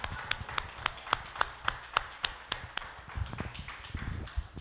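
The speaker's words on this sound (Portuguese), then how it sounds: "todos devem falar Abba Pai e aplaudir ao único Jesus Cristo." Hands clap in a steady, even rhythm at a church sermon, a dozen or so crisp claps, then trail off into scattered softer taps.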